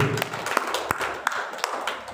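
Applause from an audience at a business seminar in Madiun, Indonesia: a handful of sharp claps in a fairly even rhythm, thin and sparse rather than a full crowd, with no talking.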